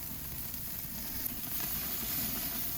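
Tri-tip fat cap searing on a grill over direct fire, a quiet steady hiss and crackle of sizzling fat, continuous and fairly faint.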